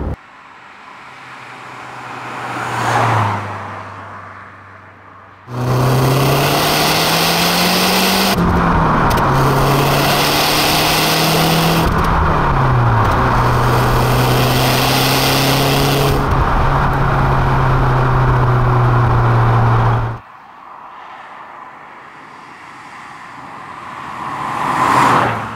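A Lancia Delta Integrale Evo II driven hard on an open road, its engine revving loudly through rising and falling pitches with gear changes for about fifteen seconds, framed by quieter passing road noise before and after.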